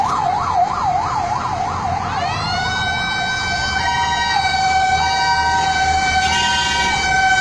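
Emergency vehicles, ambulances and fire brigade trucks, sound their sirens during Muharram security arrangements in Bhimber: a rapidly warbling wail gives way to a long rising, steady wail, loud and continuous with no talk.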